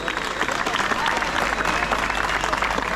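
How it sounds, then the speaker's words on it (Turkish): An audience at a speech breaks into steady, full applause, dense clapping sustained evenly across the whole stretch with a faint voice underneath. "Sizden ricam onlara da bir alkış rica ediyorum."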